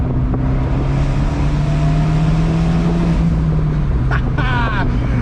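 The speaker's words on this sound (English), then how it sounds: "I like the sound of that Bonalume as well." Abarth 124 Spider fitted with a Bonalume exhaust, a steady loud droning engine note that rises slightly and then falls away, with a brief higher whine near the end.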